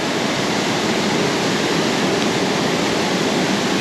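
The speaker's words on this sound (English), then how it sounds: "So it is very deep directly in front of the waterfall" A waterfall in the Southern Forests of Western Australia gives a steady, close rushing roar that stays dense and unbroken throughout, with no voices.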